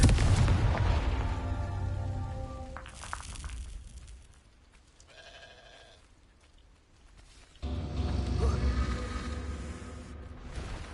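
A Confringo fire spell exploding in the Hogwarts Legacy video game, with loud booming blasts and crackling game effects, a quieter stretch in the middle, then another heavy burst of noise.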